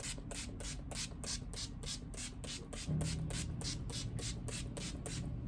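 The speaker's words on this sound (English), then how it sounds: "this is just a setting spray they gave me" Rapid, evenly spaced hisses of a setting spray pumped over and over onto a face, close and fairly quiet, with a low steady hum underneath.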